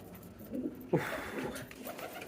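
Domestic pigeons cooing in a loft, soft low throaty coos repeating at moderate distance, with a brief louder burst partway through.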